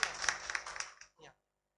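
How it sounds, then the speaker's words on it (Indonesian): A congregation at a Christmas Eve church service claps briefly, a quick burst of close hand claps that fades out, then one short last patter before silence. "Tepuk tangan dulu ya"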